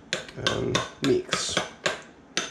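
Mayonnaise being mixed into a cilantro chimichurri aioli in a bowl: a run of scraping, clinking utensil strokes against the bowl in uneven bursts, close and moderately loud.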